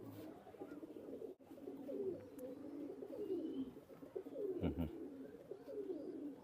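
Teddy pigeons coo in repeated soft, throaty rolling calls, several overlapping phrases over a few seconds, close and moderately loud with faint background noise and no talking.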